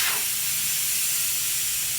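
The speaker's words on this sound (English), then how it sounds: "I'm gonna get a valve core remover and let the air out." Air rushes out of a tire valve with the core removed, a loud, steady hiss up close that holds without a break.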